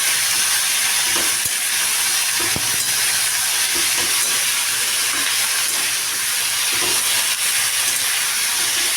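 Eggs frying lightly in a pan for Bengali egg curry give a steady, loud hiss like steam, continuous throughout with small crackles and no talking.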